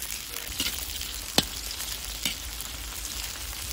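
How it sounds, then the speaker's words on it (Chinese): Scallion, ginger and chili fry in oil over a low flame, sending up a continuous close crackle broken by a few sharp pops and scrapes. "小火就给它炸香了"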